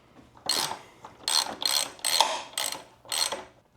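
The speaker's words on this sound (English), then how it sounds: "you're gonna take the OEM bolts with the Loctite on them and just thread them into the holes" A 12 mm ratchet snugs OEM bolts with Loctite on a motorcycle fender eliminator install, giving six short, crisp bursts of rapid clicking with brief gaps between them, close and clear.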